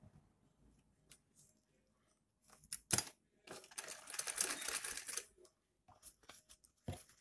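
A sewing machine stitches horsehair braid onto lining fabric in short, rapid bursts of mechanical whirring, with a longer run in the middle and brief clicks and pauses between.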